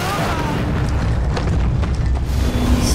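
A grenade blast in a film lands as a heavy low boom with rumbling aftermath that fills the whole stretch, loud and close, with faint score or effects above.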